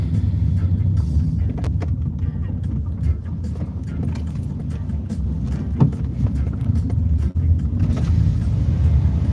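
A Toyota Vista Ardeo car drives past with a steady low rumble of engine and road noise that holds throughout, with faint voices in the background.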